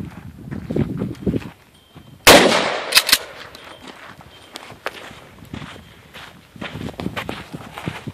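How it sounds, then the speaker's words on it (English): A 12 gauge Mossberg 500 shotgun fires a single buckshot round outdoors, one sharp loud blast midway, with shuffling footsteps and handling noises before and after. "So we're going to shoot right now, double lock buck."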